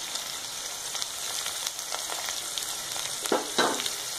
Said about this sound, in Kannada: ಚೆನ್ನಾಗಿ ಮಿಕ್ಸ್ ಮಾಡೋಣ ಇದನ್ನ ಈರುಳ್ಳಿ ಚೆನ್ನಾಗಿ ಬಾಡಿಸ್ಕೊಳ್ಳೋಣ